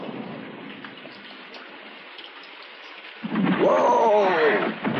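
Rain falls as a steady, moderate hiss, soon overlaid by a louder rumbling surge and a voice speaking over the downpour.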